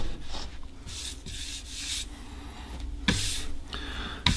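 Close, soft rasping strokes of a hand rubbing back and forth across a purple-stained quilted maple guitar body, several passes with brief pauses.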